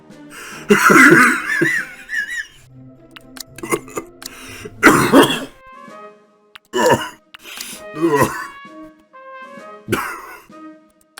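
A person coughs and clears their throat repeatedly in harsh bursts, with strained breathy sounds and groans between them, close by.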